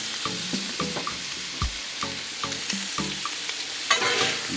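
Shrimp sizzling on a Blackstone griddle with island stir fry seasoning, a steady close frying hiss broken by repeated scraping and stirring strokes of a spatula on the hot flat-top.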